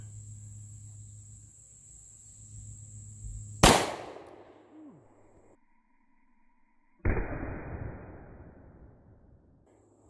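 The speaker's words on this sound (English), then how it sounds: "This is my Taurus Model 66 in 357 Magnum. I'll shoot one of these and see what happens." Two sharp, loud outdoor shots from a Taurus Model 66 .357 Magnum revolver, fired a few seconds apart, each a sudden blast followed by a short decaying echo, with insect chirping in the quiet background.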